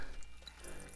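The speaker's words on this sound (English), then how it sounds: "So let's pour it out" A chilled drink is poured from a frosty cocktail shaker into a glass, a faint, brief liquid trickle with a soft splash over low room noise.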